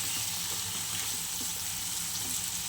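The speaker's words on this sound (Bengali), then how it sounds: "চলো এবার সুন্দর করে ভেজে নিই" Eggs fry in a pan with a steady close hiss and soft crackle, a continuous sizzle with no pauses.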